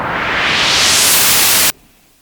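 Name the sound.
synthesizer filter sweep making wind sounds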